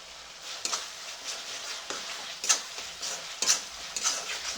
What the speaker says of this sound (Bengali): জিরে গুঁড়ো দিয়ে খুব বেশি নাড়াচাড়া করবো না তিরিশ সেকেন্ড মতো নেড়ে ছেড়ে নেবো